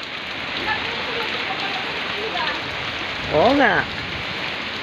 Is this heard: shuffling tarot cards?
no